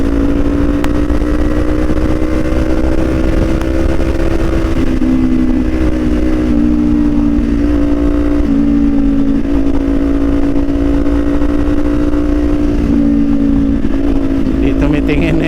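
Tricycles and other vehicles passing at a school crossing, a loud continuous engine drone with shifting revs close by, under talk.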